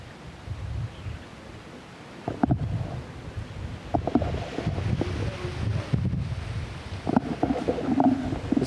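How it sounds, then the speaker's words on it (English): Wind gusts buffet a microphone on a hilltop during a motorcycle ride, giving a rough, uneven low rumble with sharper bursts and a few scattered thumps throughout. "It's pretty windy"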